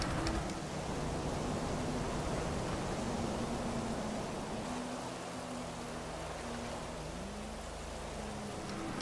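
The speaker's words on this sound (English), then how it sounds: "I'm surprised the rain's still going" Steady rain falls in GTA V, a constant quiet hiss under a low engine drone that slowly shifts pitch.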